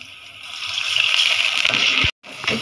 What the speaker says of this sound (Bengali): এখন আমি এখানে একটু পানি দিয়ে দিই।